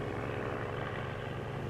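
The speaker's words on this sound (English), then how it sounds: "At the very last moment, the plane suddenly came unglued from the earth." Lindbergh's propeller plane takes off with a continuous droning engine, heard steady and fairly faint throughout.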